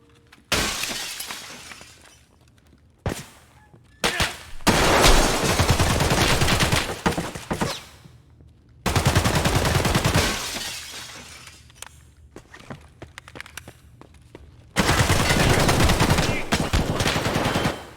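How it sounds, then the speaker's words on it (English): Bursts of gunfire from a scav raider shooting through a floor in Escape from Tarkov, loud irregular volleys with short silences between, sharp crackling and shattering impacts, no talk. "a scav raider shooting through the floor"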